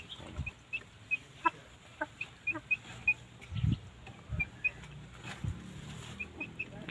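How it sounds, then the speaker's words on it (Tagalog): A hen, a cross with a Golden Boy, clucking nearby: short, soft, separate clucks in an irregular rhythm, with faint higher chirps in a quiet setting. "Pakita ko lang sa inyo guys yung yung hen ko na Gilmore"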